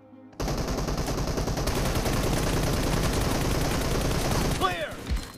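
Rapid, sustained bursts of gunfire in the mobile shooter PUBG Mobile, during a team deathmatch, loud and nearly continuous for several seconds before breaking off into brief fainter effects.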